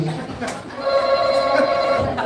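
A quiz buzzer sounding like a telephone ring gives a steady electronic tone over ongoing background voices at a live birthday celebration, sustained for about a second and a half.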